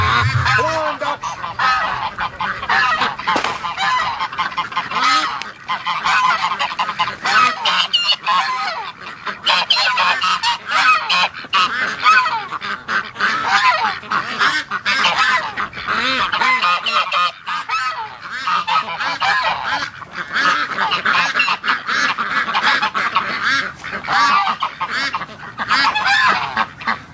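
A dense, loud chorus of newly hatched ducklings and goslings calling nonstop, overlapping peeps and honks filling the whole stretch.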